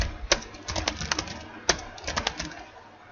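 Rapid clicks on a computer keyboard while code comments are written, coming in uneven bursts with a few louder key strikes, close and clear with no talk.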